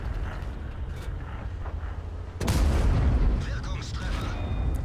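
A KV-5 tank in the video game World of Tanks fires its cannon. One sudden loud boom is followed by a sustained rumbling tail over steady mechanical game background noise.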